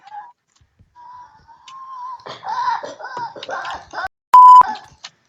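Electronic beeps in a Minecraft voice chat, a loud steady tone near the end following a stretch of muffled, distorted voice sounds and short beeping bursts.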